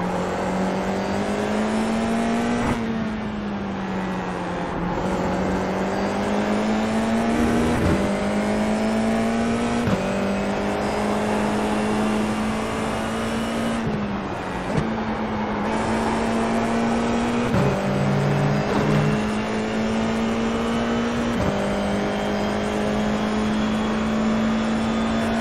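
F4 race cars in an esports racing game at Okayama, a continuous loud engine drone with repeated upshifts and revving, steady throughout with no voices.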